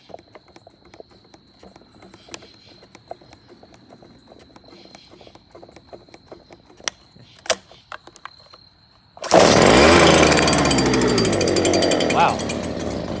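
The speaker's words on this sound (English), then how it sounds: "I'm going to do a cold start on my Steel BG86C handheld leaf blower." A Stihl BG86C handheld leaf blower is cold started. Several seconds of quiet clicks and tugs lead to the engine catching abruptly, then a loud, steady close roar that eases slightly near the end.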